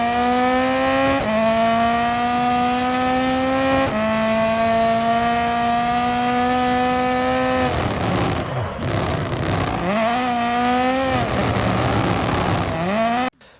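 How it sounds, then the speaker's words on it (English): A Rally 1 car in the EA WRC racing game revs hard and climbs through its gears, its loud engine note dropping at each upshift, then stuttering and wavering briefly before pulling strongly again. "The Rally 1 cars are beautiful. They sound amazing."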